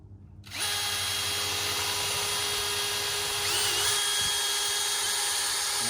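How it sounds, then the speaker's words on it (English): Power drill boring pilot holes into rough cut 2x4 timber, a steady loud whine running continuously after a brief start, with the pitch shifting slightly as the bit bites deeper. "I'm gonna drill my pilot holes just on the outsides for right now."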